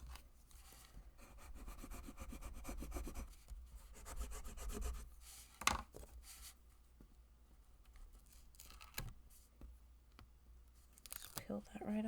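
Paper craft gift card holder being burnished, a soft close rubbing and scraping of a tool across paper in quiet bursts, broken by a few small taps and handling noises.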